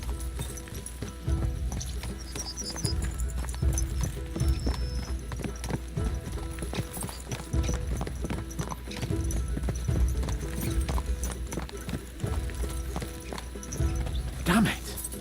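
Rhythmic clip-clop of several horses trotting in the video game Kingdom Come Deliverance II, steady and fairly close, with a horse whinnying near the end; a voice speaks faintly beneath.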